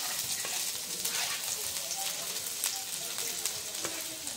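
Chopped garlic sizzling in hot mustard oil in a heated kadai for dhaba-style tadka dal: a steady, close, bright frying hiss with faint crackles throughout.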